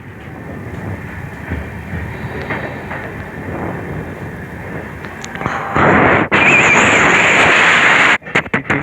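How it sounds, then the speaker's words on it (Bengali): A moving train gives a steady rumbling clatter that swells into a loud, roaring rush of wind and wheel noise for the last few seconds, then cuts out abruptly. "আমাদের ট্রেন চলতে চলতে রানিং করা শুরু করলো।"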